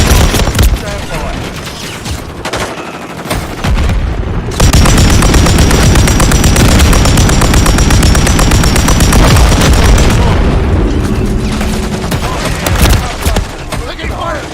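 Sustained heavy gunfire in a tactical shooter video game, loud rapid automatic bursts with booms layered into a continuous barrage, with brief game voice callouts.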